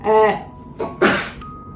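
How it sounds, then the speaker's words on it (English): A single sharp sneeze bursts out after a short vocal intake, close and loud, followed by a faint chime. "I'm gonna sneeze."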